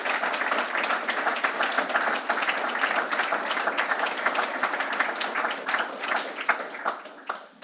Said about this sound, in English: So can I have a round of applause for everybody?